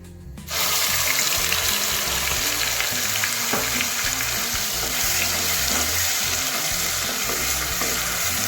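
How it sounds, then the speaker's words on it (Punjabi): Onion paste dropped into a hot pan for dhaba-style shahi paneer, bursting into a loud, sudden sizzle that settles into a steady, crackling fry close by, with no talking. "ਇਹਦੇ ਵਿੱਚ ਹੁਣ ਪਾਵਾਂਗੇ ਆਪਾਂ ਪਿਆਜ਼ ਜਿੰਨਾ ਦਾ ਆਪਾਂ ਪੇਸਟ ਤਿਆਰ ਕਰ ਲਿਆ ਜੀ"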